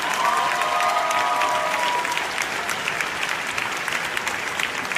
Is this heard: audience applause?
yes